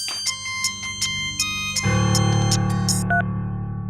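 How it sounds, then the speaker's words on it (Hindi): A mobile phone ringtone rings loudly with a bright electronic melody of repeated chiming notes over a low buzzing tone, playing alone without any voices. "सर, आपका फोन का रिंग बज रहा है।"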